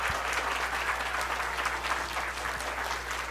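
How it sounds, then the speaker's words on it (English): Elementary school audience at an assembly clapping loudly and continuously, a thick, even roar of many hands close by with no voices over it. "Let's give them another big round of applause"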